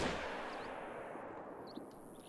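A single rifle shot in the hunting game theHunter: Call of the Wild cracks at the start and its echo trails off, leaving a faint, fading rumble.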